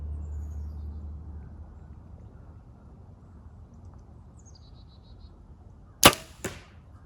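An arrow is shot from a G5 Prime Ion bow outdoors during Texas archery season. After a quiet stretch with low rumble, it hits the target with one sharp crack, followed quickly by a second, fainter impact.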